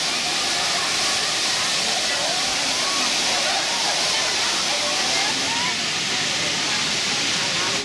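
Erawan waterfall in Thailand roars in a dense, constant wash of falling water, loud and close throughout, with faint voices mixed into the spray.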